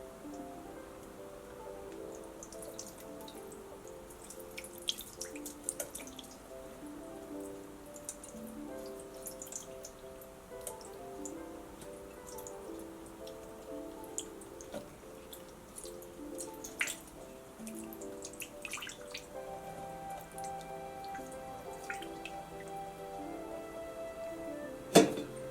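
Water drips and trickles softly and irregularly during a Hindu abhishekam bathing ritual for a Krishna deity at home, with scattered small splashes and faint ringing tones in the background.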